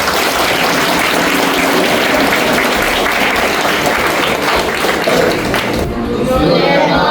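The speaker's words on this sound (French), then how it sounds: "Applaudissez ce matin." Steady crowd applause with dense clapping that fills the whole stretch, loud and close, fading slightly toward the end.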